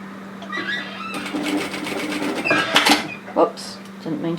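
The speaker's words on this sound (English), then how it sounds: "I'm going to tack stitch this in around about 6 mil" A domestic sewing machine tack stitches the bottom zip stop onto a bomber-style varsity jacket in short bursts of rapid needle chatter. A brief clunk follows, and a voice talks over part of it.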